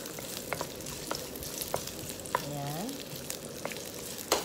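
Ginger sautés in oil in a pan with a soft, steady sizzle, broken by light scraping clicks of stirring and a brief spoken word.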